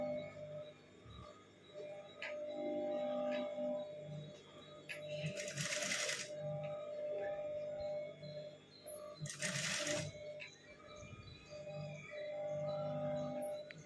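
A sewing machine stitches piping onto a lined blouse, its steady mechanical whir running through the clip with two brief louder bursts of motor noise; no one speaks.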